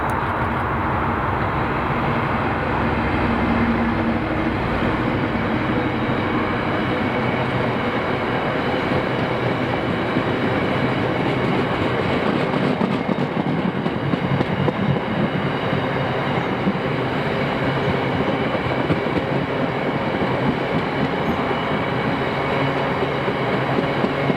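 A freight train carrying cement rumbles past on a Scottish line, a steady loud roar of wagons with faint clickety-clack running throughout, no voices.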